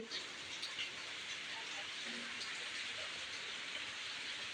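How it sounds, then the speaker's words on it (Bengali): Rain falls steadily at a rural market, a constant broad hiss with faint scattered patters, fairly soft and without clear talk. "এত বৃষ্টি আল্লাহ কোথা থেকে আসছে?"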